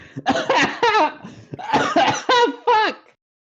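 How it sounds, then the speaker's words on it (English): A person coughs hard after inhaling smoke, in a rapid series of harsh, voiced bursts, two clusters back to back, close and loud, almost like strained laughter. "It sent me into a coughing fit."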